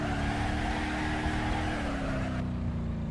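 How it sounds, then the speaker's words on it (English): A truck in the driving game BeamNG.Drive holds a steady droning engine roar during a burnout, with the pitch slowly sagging and the upper noise cutting off near the end. "let's do some burnouts, because apparently we just figured out that you can."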